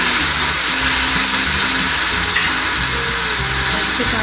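Tomatoes going into a pan of sizzling onion, cumin and ginger-garlic paste, a loud continuous hiss and crackle of frying that holds steady throughout.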